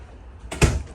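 A door inside a 2022 Forest River Rockwood Ultra Lite 2911BS travel trailer swings shut on a closed-off area, a single close, dull thump with a short rattle and nothing else around it.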